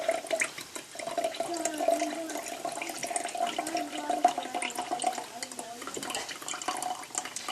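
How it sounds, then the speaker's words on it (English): Buttermilk poured off a batch of homemade butter, a steady close watery trickle and splash that runs continuously with no talking. "So you pour off your cream, or your liquid from your butter."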